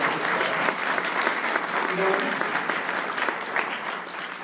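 After a senior family-harmony play, the audience applauds the actors and organizers with thick, sustained clapping from a large crowd, loud and close, easing slightly toward the end.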